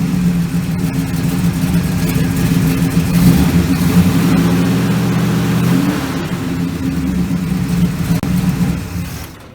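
Car engine fitted with a Holley 780 cfm four-barrel carburetor, model 3310-1, cold-starting and running loud and close, revving up then settling toward idle.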